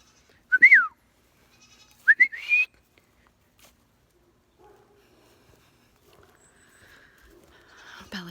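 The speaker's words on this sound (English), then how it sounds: "You hear the goats?" Goats at a goat barn on a cold, sunny day let out two short, clear bleats about a second apart, followed by near silence with faint rustling.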